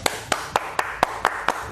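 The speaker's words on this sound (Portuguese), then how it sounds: "Quem acha que o Flavinho foi bem, bate palma." Seven or eight sharp hand claps ring out at a steady, even pace in a radio studio, close and crisp, with no voices over them.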